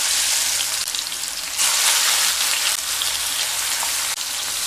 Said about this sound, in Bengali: তেল গরম হয়ে গেলে চিকেনগুলোকে ভেজে নেব।